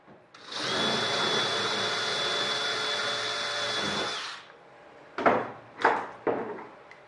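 A power drill whirs steadily for about four seconds drilling airplane fuel tank parts, then stops, followed by three short clunks of handling metal parts.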